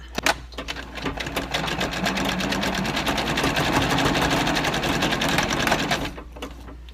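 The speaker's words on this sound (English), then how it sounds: "I'm going to sew a rectangle, just like a buttonhole, in a very tight zigzag all the way around that." A sewing machine runs a tight zigzag rectangle, like a buttonhole, on a fabric seed storage bag, giving a fast, even mechanical rattle for about six seconds, close and alone.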